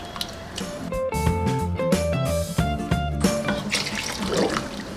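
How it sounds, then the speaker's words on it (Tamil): Water pours into a pot of cooking lentils with tamarind in a home kitchen, splashing and gurgling in a burst of several seconds, close and clear over faint background clatter. "கொஞ்சமாக நம்ம தண்ணி விட்டுக்கலாம்."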